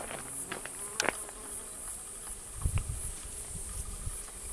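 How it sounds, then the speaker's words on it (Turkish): Honey bees buzz around oak branches in Bilecik, Bozüyük, a continuous insect drone up close with high-pitched steady hum, some individual bees passing near, faint rustling underneath. "oldukça arı yoğunluğu var şu dalda."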